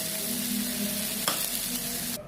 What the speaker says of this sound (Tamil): இந்த ஸ்டேஜில் இந்த ரைஸ் அதோட கலந்து அப்படியே கிளறி விட்டுருவோம்.